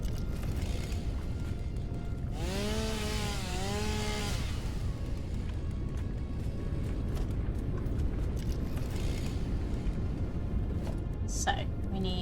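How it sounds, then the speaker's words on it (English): A chainsaw in the video game Satisfactory cutting trees, a droning motor buzz that rises and falls over about two seconds, with someone talking around it. "Do we have chainsaw?"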